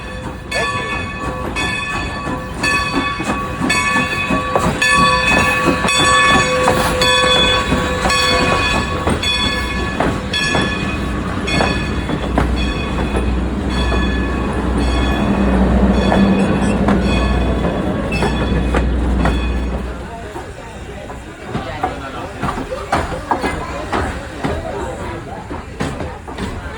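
A Strasburg Railroad train rolls past loud and close, with a steady rumble, clattering wheels and a sustained horn-like tone through most of the pass, then fades to quieter ambience.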